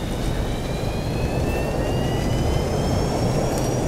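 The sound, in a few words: FlyJSim T-43A thrust reversers on landing, X-Plane 11 video game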